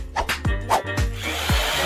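A power drill runs in a cartoon, giving a close, loud string of short whirring bursts that repeat in a steady rhythm.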